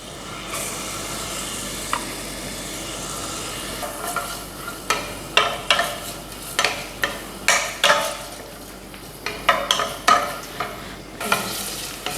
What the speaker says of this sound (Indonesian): kita masukkan olive oil, smoke pork shouldernya.